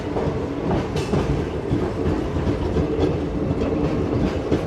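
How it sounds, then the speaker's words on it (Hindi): The 02831 Dhanbad–Bhubaneswar Express pulls out of Talcher railway station, heard from on board as a steady, loud rumble of wheels with a rhythmic clickety-clack over the rails and no talking. "तो ये है तालचर रेलवे स्टेशन जहाँ से हमारी गाड़ी अभी निकल रही है"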